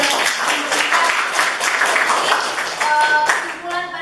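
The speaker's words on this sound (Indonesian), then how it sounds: "Sudah semuanya kita beri tepuk tangan buat Mbak Cindy tadi" A classroom group applauds with a dense patter of clapping that carries through most of the stretch, and a teacher's voice speaks over the end.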